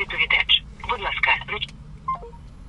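A telephone call is placed, with bursts of electronic dialing and line tones close on a phone speaker. A brief tonal beep follows near the end over a low background hum.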